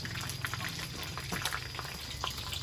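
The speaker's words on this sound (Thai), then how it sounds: "แล้วน้ำมันมักดีด" Hot oil spatters and crackles while food fries at a street vendor's stall, a dense stream of small pops over a bubbling hiss, close and steady throughout.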